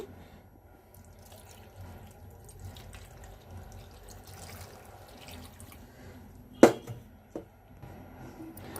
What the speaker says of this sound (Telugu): కొంచెం వాటర్ వేసుకోవాలి